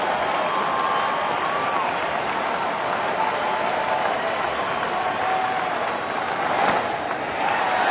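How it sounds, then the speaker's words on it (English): A dense baseball stadium crowd cheers and applauds steadily throughout, a broad roar of clapping with a slight swell near the end. "Crowd getting into it now."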